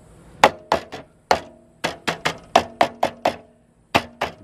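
An RV awning arm on a Grand Design Solitude travel trailer is struck repeatedly to knock debris loose, giving about fifteen sharp, close hollow knocks in irregular bursts with short gaps between them.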